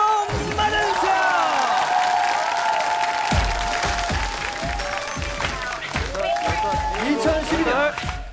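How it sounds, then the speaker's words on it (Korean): Studio audience claps and cheers to welcome the Korean national floorball team on a TV talent show, dense applause under lively voices and shouts throughout. "큰 박수로 맞아주세요."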